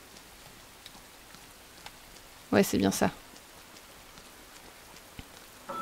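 A soft, steady hiss of rain falls in the video game Rain, a faint ambient patter under the whole stretch, briefly interrupted by a voice speaking.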